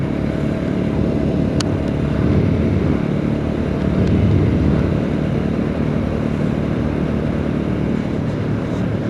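A motorcycle rides along a rough road in Nepal, its engine holding a steady, loud, continuous drone for the whole stretch, close to the rider, with no speech.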